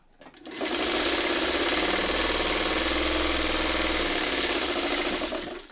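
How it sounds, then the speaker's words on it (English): A sewing machine stitching fabric pieces together, starting up and running in one steady, fast mechanical whirring rattle for several seconds before stopping, close and clear. "I'm going to sew these two together first"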